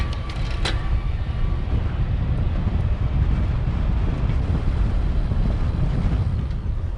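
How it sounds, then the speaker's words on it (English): Steady, loud wind buffeting the microphone while riding a Raleigh Retroglide 2.0 iE e-bike into a headwind, a continuous low roar with no voices. "we're actually riding into the wind"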